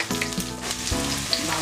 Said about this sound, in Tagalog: Ilagay na po natin ang ating sibuyas.